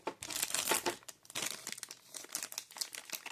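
Plastic packaging holding Beyblade parts crinkles and crackles as it is pulled open close by, in quick irregular bursts of rustling with short pauses.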